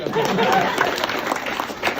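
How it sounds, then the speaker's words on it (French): Audience applause during a theatre sketch, a short burst of broad clapping with a murmur of crowd voices mixed in. "Applaudissez pour le bœuf."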